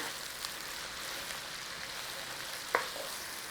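Onions and mushrooms fry in a pan with a soft, steady sizzle, and one sharp stirring clink sounds near the end.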